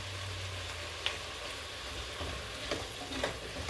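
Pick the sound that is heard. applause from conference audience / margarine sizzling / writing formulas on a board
margarine sizzling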